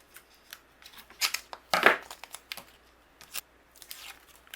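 Scissors trim patterned photo craft paper during card making, making a series of crisp, close snipping and slicing cuts with one longer louder cut in the middle, no talking.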